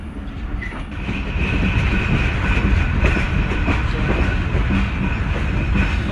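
The Hazara Express, a Pakistani overnight train, rumbles steadily along the tracks toward Multan, with a continuous loud roar and faint rhythmic clacking of wheels throughout.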